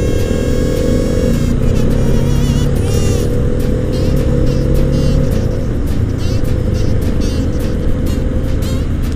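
A KTM motorcycle speeds past on a road, recorded from another motorcycle over loud engine drone and wind noise; the passing engine's pitch sweeps as it revs by close at hand.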